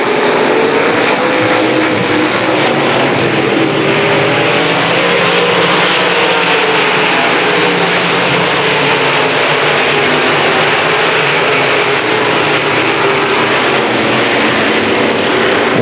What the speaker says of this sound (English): Waring, Johnson, and Hitt make it a three-car freight train down the back chute